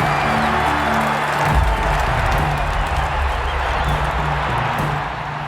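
Huge crowd at the Roman Colosseum roaring and cheering for gladiators, a dense, sustained wall of massed voices close and loud throughout, with a deep tone beneath it.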